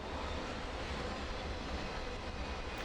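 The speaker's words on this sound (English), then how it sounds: "We should see the locomotive of 214 right about now." A freight train led by an old-logo locomotive rolls past, a steady low rumble of engine and rail noise that holds even and continuous throughout, with no voices.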